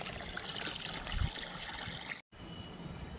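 Rice water diluted with plain water is poured onto jasmine and other flower plants, giving a soft, steady trickle and splash that stops abruptly near the end.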